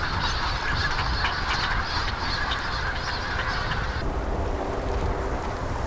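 Large flock of winter migratory waterfowl, mallards, ruddy shelducks and geese, at an urban wetland ecological park, honking and quacking continuously as a dense, steady chorus over open-air background noise.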